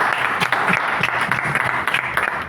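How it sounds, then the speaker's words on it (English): Audience applause for the MCs at an indoor gathering: dense, sustained clapping from many hands, loud and even throughout with no voices over it. "A big round of applause to the MCs here."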